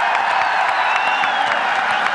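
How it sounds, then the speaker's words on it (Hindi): Crowd applause at a kabaddi league final in Punjab, a dense, loud, continuous wash of clapping from many hands filling the whole stretch. "एक बारी तालियां मार दो सारे"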